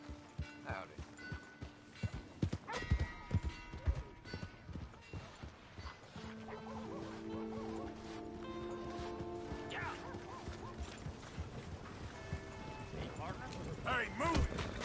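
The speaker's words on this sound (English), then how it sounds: "Hey! My horse!" Horse hooves clip-clop in the Red Dead Redemption 2 video game, an uneven run of hoof knocks mixed with other game sounds and some voices, moderately quiet.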